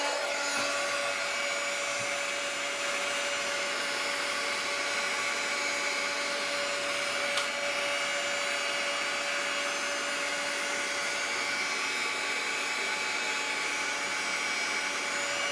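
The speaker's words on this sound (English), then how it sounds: "All right, back to the blow dryer." A blow dryer drones loud and steady while drying a watercolor background on an Easter card, running without pause and alone with no talk.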